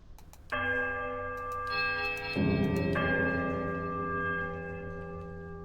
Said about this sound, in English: The bell sounds a strange warbling peal that grows to a painful shrillness before diminishing to a mournful chime.